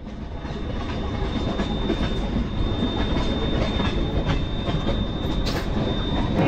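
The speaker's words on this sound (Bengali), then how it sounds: "ট্রেন ঢুকছে ভুবনেশ্বর স্টেশনে।" A Howrah–Bengaluru Duronto Express pulls into Bhubaneswar station with a steady, loud rumble of wheels and carriages, a thin high squeal running throughout, and no voices.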